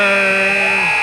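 End-of-quarter buzzer in a high school boys basketball game, a loud, harsh, sustained electronic drone that lasts about a second and bends downward slightly as it ends.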